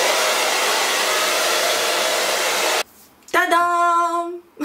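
A hair dryer blows loud and steady while drying freshly dyed cold-blonde hair, then cuts off abruptly and briefly restarts in a short burst near the end.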